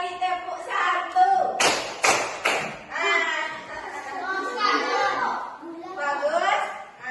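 A classroom of children claps out rhythmic patterns in a clapping game, a few sharp bursts of claps standing out amid a teacher's spoken instructions and children's voices.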